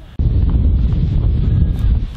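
Strong wind buffets the microphone on a sheep farm during lambing, a steady loud roar of gusts filling the whole stretch after a brief quiet start.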